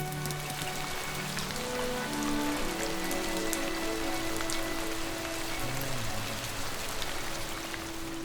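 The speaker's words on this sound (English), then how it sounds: "Sometimes it rains in England, so you always gotta wear your rain jacket." Steady rain falls across the grounds of Leeds Castle in Kent, England, a dense, even hiss of drops on surfaces that stays constant throughout, with faint low tonal hums beneath and no one speaking.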